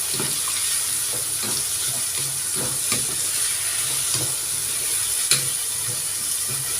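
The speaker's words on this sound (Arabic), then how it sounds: "كله تشويحه بسيطه" Vegetables and cooked white beans sizzle in a pan during a light sauté, a steady close hiss broken by occasional soft stirring scrapes.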